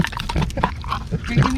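A rescue pig at a Florida Everglades fish camp gives a quick run of close, low grunts and snorts, with people talking over it.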